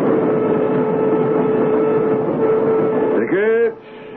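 Commuter train sound effect from an old radio drama: a steady rumbling run of rail noise, then a short blast of the train's horn near the end before it drops away.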